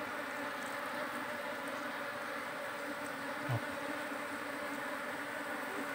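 Wild bees buzz steadily at an opened hive box, a dense, continuous drone close to the listener with a brief soft bump midway and no talking.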